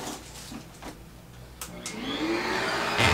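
A small vacuum from a dog grooming kit switches on nearby with a few clicks, then its motor whine rises and builds steadily over a few seconds.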